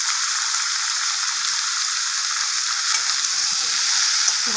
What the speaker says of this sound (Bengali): কাঁচা ছোলাগুলো দিয়ে একটু নাড়িয়ে নেবো